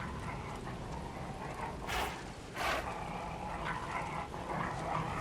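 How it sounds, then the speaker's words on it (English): A dog in the video game Lies of P gives two short barks or yelps in quick succession against a low, murky ambient background, fairly faint and without talking. "Can I sneak up on the dog?"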